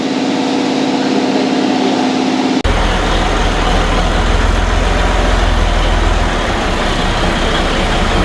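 A tractor pulls away near a temple during preparations for a consecration festival, its engine a loud steady rumble with a continuous low drone, noisy and unbroken throughout.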